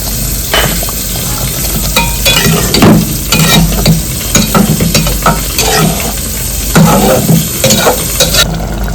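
Ridge gourd, potato and prawns fry in a pan with a loud, continuous sizzle, broken by repeated scraping and stirring strokes of a utensil against the metal, with no voices.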